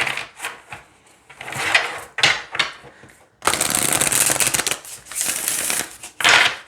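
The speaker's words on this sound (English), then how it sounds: "All right, so let's shuffle." Oracle cards with velvety backs being shuffled in a few bursts, crisp riffling flutters separated by short pauses, then a longer continuous shuffle, close up with no talking.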